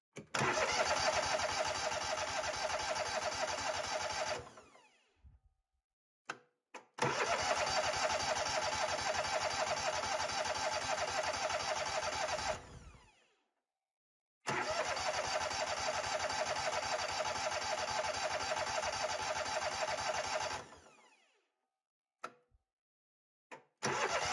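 A Kohler Courage Twin engine on a Husqvarna MZ5225 zero-turn mower, run dry before storage, cranks repeatedly without firing: three long, loud bursts of steady starter whirring, each four to six seconds, separated by short silences, with no voices.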